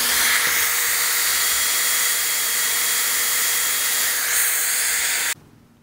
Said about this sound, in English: Now we will turn on high, we will heat the battery up so that the adhesive will melt and that we can pry the battery off.